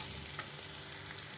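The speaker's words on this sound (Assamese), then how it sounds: "এই আদা নহৰু দিলোঁ দি অলপ ৰঙচুৱা কৰি লওঁ ভাজি" Ginger and garlic fry in oil with a quiet, continuous sizzle, heard alone for a brief moment.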